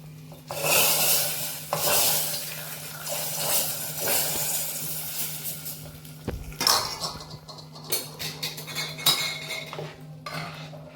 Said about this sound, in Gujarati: હવે આપણે દાળમાં નાખી દઈશું વઘાર